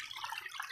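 Water splashing and trickling steadily over rocks narrowing the channel of a DIY artificial backyard creek waterfall, a close, continuous bright rushing with no voices.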